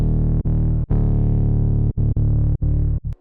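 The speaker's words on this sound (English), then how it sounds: "the first bass sounds like this." Serum synth bass starting from a sine oscillator with redrawn harmonics, sidechained in a bass track: a loud, thick, distorted sustained low tone that ducks sharply several times in a rhythmic pumping pattern, with no voice.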